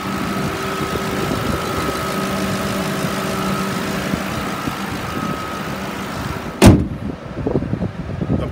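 A 2011 Ford Crown Victoria Police Interceptor with 74,000 miles idling steadily with a low even hum and whine, then a sudden thump like a door closing, followed by rustling and handling noises.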